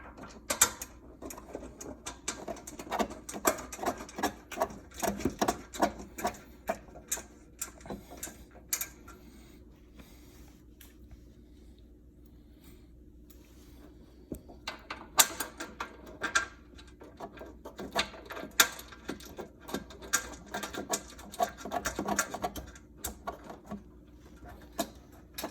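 Intermittent clicks, ratcheting and metallic rattles come from bolts being hand tightened on a Horizon T101 treadmill, with busy bursts separated by a quieter stretch, heard close up and without talk.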